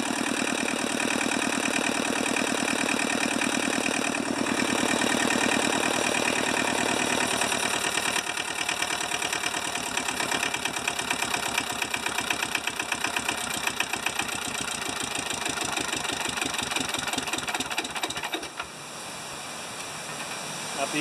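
An old, rusty tractor engine, idle for over 15 years, runs and idles steadily, a loud continuous mechanical drone with hiss, settling into a rougher, more rhythmic chug partway through before a brief drop near the end.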